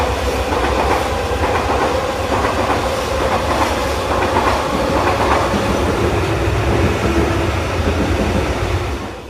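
A Shatabdi Express train running at high speed, its steady rolling roar overlaid with rhythmic clickety-clack of wheels on rail joints, loud and continuous throughout with no voices.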